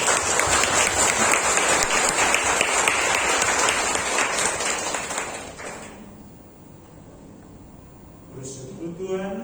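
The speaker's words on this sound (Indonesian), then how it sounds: "Kita beri tepuk tangan untuk" A congregation at a Catholic charismatic prayer group's anniversary thanksgiving mass claps loudly and steadily for several seconds, then the applause fades out, leaving a quiet room with faint sounds near the end.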